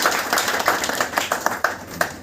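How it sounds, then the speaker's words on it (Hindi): Audience clapping at a book launch, a loose cluster of hands applauding fairly close, with distinct individual claps popping out in an uneven rhythm. "एक बार दोनों हाथ उठा के जोरदार तालियां सूरज तिवारी जी की बजाय।"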